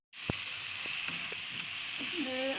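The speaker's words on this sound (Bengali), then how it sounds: "একটু শুকনো লঙ্কা গুঁড়ো দিলাম, দিয়ে এটাকে একটু ভেজে" Potato and tomato with dry chili powder sizzle steadily in a kadai, a continuous hiss of frying with a few faint stirring clicks and scrapes, close and even throughout.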